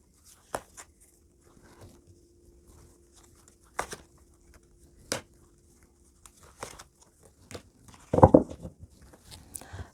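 Tarot cards drawn from a deck during a card reading: sparse, close, light papery slaps and rustles, with several brief snaps spread out and a slightly louder shuffling rustle near the end, in an otherwise quiet room.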